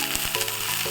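Chopped onions and green chillies sizzle steadily in hot oil with turmeric in a pan, a close, continuous crackling fry with faint stirring scrapes.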